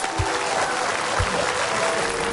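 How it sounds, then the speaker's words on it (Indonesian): Studio audience applause on an Indonesian TV talk show, a steady dense wash of clapping at even loudness for a couple of seconds with a couple of low thumps. "Oke, tepuk tangan dulu untuk Jeremy Teti."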